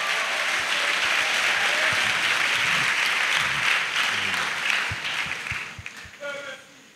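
Broad audience applause rises through a church service as the congregation gives a clap offering, steady dense clapping with voices underneath before it thins and fades near the end.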